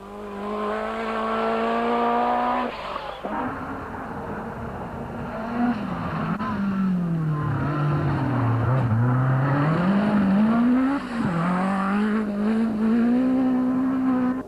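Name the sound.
rally car passing on a gravel stage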